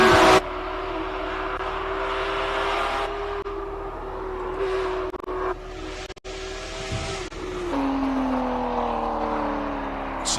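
A G race car climbs the Simola Hillclimb course, its engine a loud sustained drone that rises and falls through gear changes, with a brief dip mid-run before pulling away again, heard close and alone.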